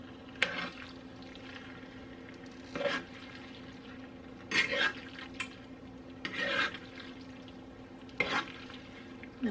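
Creamy garlic chicken pasta sauce being stirred in a pan as it cooks, with a quiet sizzle and a few scraping swishes of the spoon spaced a couple of seconds apart, no talking.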